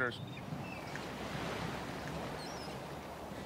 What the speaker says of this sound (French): les eaux cristallines bercent de leur ressac la baie de France dans le sud de l'île